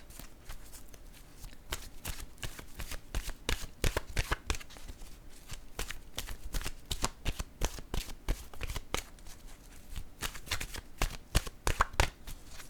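Oracle cards being shuffled and handled close by, a rapid run of crisp riffling slaps and flicks repeating steadily throughout, with no voices.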